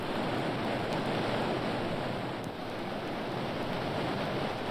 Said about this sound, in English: Listen, that roar. Is it a waterfall?